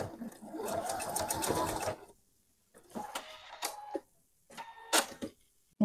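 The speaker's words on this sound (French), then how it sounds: "je suis en train de faire la surpiqûre à 1 mm" Sewing machine topstitching a T-shirt's shoulder seams at 1 mm, starting with a steady two-second run of stitching, then a few short stop-start bursts with pauses between.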